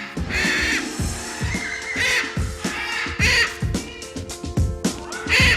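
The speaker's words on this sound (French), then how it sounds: "un perroquet qui crie, ça crie beaucoup, ça crie fort" Loud, harsh bird screams repeat in rapid bursts, shrill and close, filling the whole stretch with raucous squawking.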